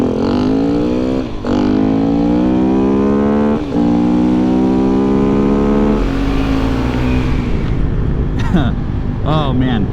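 A Svartpilen 701 motorcycle accelerating hard, its close, loud engine note climbing steadily through the revs with brief dips at gear changes before easing off near the end.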